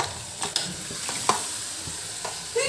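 Vegetables hit hot oil and spice paste in a pan, crackling and sizzling up close, with sharp spits and pops breaking through the steady fry.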